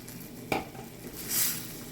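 Coconut curry shrimp cooking in a pan, a soft sizzle with a single sharp utensil clink against the pan and a brief hiss of steam, fairly quiet.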